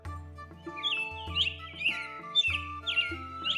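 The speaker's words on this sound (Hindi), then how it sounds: "अगली सुबह चिड़ियों की चहचहाट से बिरजू की नींद खुल गई" Birds chirping and tweeting in the morning, repeated bright calls in short bursts over a steady musical background, fairly close and clear.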